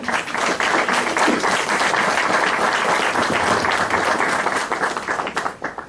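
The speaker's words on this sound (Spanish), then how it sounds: "Recibamos pues con un fuerte aplauso a nuestra distinguida invitada" A seminar audience applauds steadily for several seconds to welcome a guest speaker, dense clapping that tapers off at the end.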